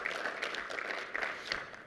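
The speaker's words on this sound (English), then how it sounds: "Please give them a round of applause" An audience at the IndyFest 2025 event claps quietly, a soft, steady patter of applause lasting a couple of seconds.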